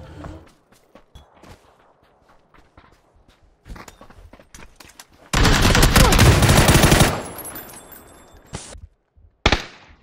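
PUBG video game gunfire: scattered single shots and footsteps, then a loud sustained burst of rapid automatic fire for about two seconds, followed by a few more sharp shots, no talk.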